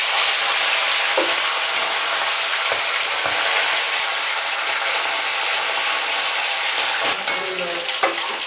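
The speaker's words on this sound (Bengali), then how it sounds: "এবার আমি প্রথমেই মাছগুলো ভেজে নিই।" Parshe fish fry in hot oil with a constant close hiss and crackle, occasional sharper pops and light utensil clicks breaking through, no voices.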